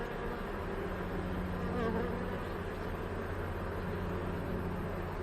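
Honey bees forage on wild blackberry flowers, making a soft, continuous buzzing hum with no voices.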